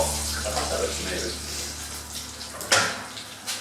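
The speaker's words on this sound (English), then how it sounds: "My potatoes are bubbling away." A pot of potatoes boiling on a kitchen stove gives a steady watery bubbling and hiss, with a low hum beneath and a brief louder splash or clatter near the end.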